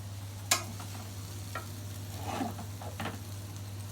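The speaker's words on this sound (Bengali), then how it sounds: "আলু ভাজি" Potatoes fry and are stirred in a pan over a home stove, giving a low steady sizzle with a few sharp scraping clicks of the spatula, fairly quiet and with no talk.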